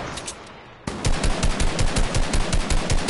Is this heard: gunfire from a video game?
yes